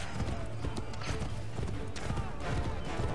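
Horse hooves clip-clop steadily in Assassin's Creed 3, a dense game soundtrack with rumbling effects and ambient noise running underneath the rapid, close hoofbeats.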